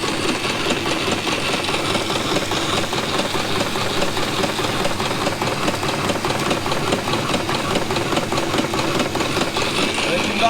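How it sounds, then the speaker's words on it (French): Vintage engine driving a threshing machine working wheat: a steady, close mechanical chatter with rapid knocking rhythm and vibration that continues evenly throughout. "Avec un moteur d'époque."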